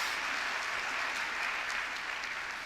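Church congregation applauding a youth group during an autumn special early-morning revival service, a steady even wash of clapping throughout, moderately loud and without talk.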